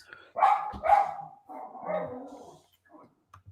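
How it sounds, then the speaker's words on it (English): A dog barks indoors a few times in quick succession, close and fairly loud, followed by a softer whimpering yelp, with no other sounds around. "I'm gonna mute you while the dog's barking."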